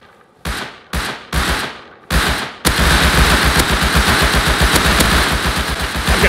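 AK rifle gunfire in the survival game Rust, opening with four separate sharp cracks spaced apart, then a rapid sustained automatic burst that rattles on loud and close until the end.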